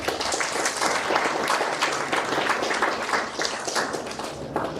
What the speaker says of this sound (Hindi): इसके लिए उनके लिए भी जोरदार तालियां बजाएं